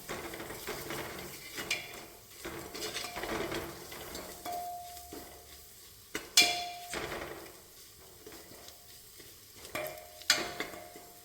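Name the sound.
sautéing vegetables with coriander powder for biryani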